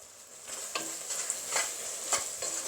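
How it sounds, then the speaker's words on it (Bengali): Sweet-sour-spicy plum pickle stirred in a pan as it cooks down, a soft steady sizzle with scraping strokes of the spoon at irregular intervals, close up with no talk. "শুকিয়ে আসা পর্যন্ত আমি এটাকে এভাবে অনবরত নাড়তে থাকবো।"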